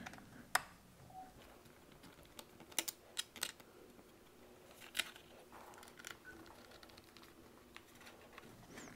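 A small driver works T5 Torx screws loose from the bottom cover of an HP ENVY x360 laptop, with faint scattered ticks and clicks over a low, quiet background.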